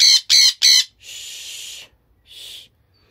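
Several loud bird calls: three quick harsh bursts, then a longer drawn-out screech and one shorter call after a pause, close and clear.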